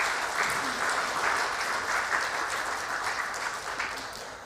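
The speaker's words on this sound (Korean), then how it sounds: "두 분께 또 박수 한번 해 주십시다." A church congregation at a Sunday service gives a round of applause, a steady, fairly distant patter of many hands that holds evenly and tapers slightly at the end.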